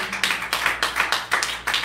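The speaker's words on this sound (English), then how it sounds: "Come on, clap and praise the Lord." A church congregation claps in a steady, even rhythm during a service, about a dozen sharp claps in under two seconds, close and lively.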